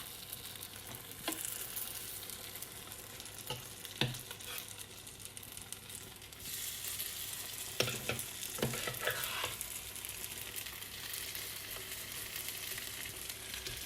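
Vegetable waffle batter cooks in an oiled waffle iron, giving a steady broadband sizzle throughout with a few brief clicks and bumps from the iron, and no talking.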